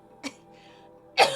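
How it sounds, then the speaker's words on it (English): Two short, sharp coughs from a person nearby, one brief and fainter and a louder one about a second later, against a quiet background. "How dare you cough on my stream?"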